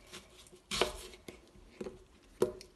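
A knife cuts through an apple for an apple cake, several crisp separate slicing crunches spaced about a second apart, close and fairly quiet with a hushed room background.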